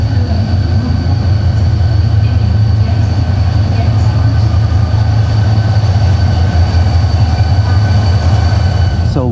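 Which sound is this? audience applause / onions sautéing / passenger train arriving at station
passenger train arriving at station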